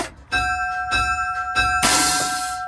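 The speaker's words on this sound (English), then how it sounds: "Of course, bell valve. I'll kick the bell on." A truck-mounted, air-operated bell rings in steady repeated strokes, clear and fairly loud, followed by a burst of hissing air near the end.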